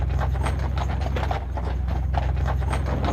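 Horse hooves clip-clop steadily as a team pulls a hitch wagon, a dense, continuous rhythm of hoofbeats close by over a constant low rumble.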